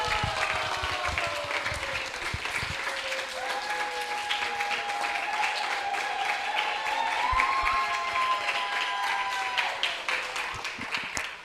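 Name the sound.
audience applause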